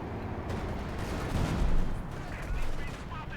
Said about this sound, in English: Mostly these trees and squirrels here getting absolutely obliterated by the howitzer